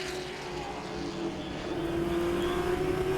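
Late model race cars roar past at Langley Speedway, a loud sustained engine drone rising in pitch as the pack approaches, with no talk.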